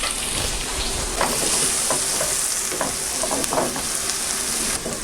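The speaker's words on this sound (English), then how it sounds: "While the onions are frying" Onions sizzle and crackle in hot oil, with occasional stirring scrapes, close and steady throughout.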